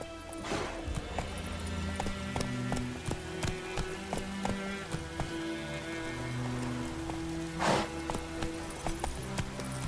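Roach, Geralt's horse in The Witcher 3, gallops with steady clip-clop hoofbeats over a rainy backdrop, with a couple of louder thumps mixed in.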